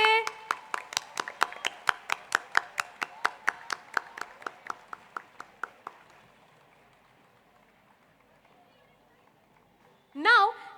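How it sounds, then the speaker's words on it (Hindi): Rhythmic audience clapping at a school annual concert, steady unison claps fading out over several seconds, then a brief voice at the end. "तालियां बजती रहनी चाहिए."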